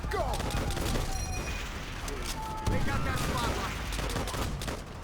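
Machine gun fire in the game Call of Duty: World at War, sharp bursts of rapid shots mixed with explosions and battle din, loud and continuous, with voices talking over the gunfire.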